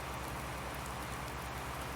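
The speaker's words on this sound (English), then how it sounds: "it has started raining" Rain falls steadily in Farming Simulator 19, a dense, continuous hiss of drops on surfaces with a low repeating pulse underneath, evenly loud throughout with no voices.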